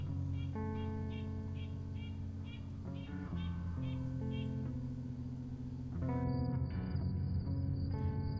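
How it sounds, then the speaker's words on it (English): Crickets and nighttime insects chirp in the video game Fallow as a steady high trill that grows clearer near the end, mixed with tonal game music. "sound of crickets, nighttime bugs, and whatnot."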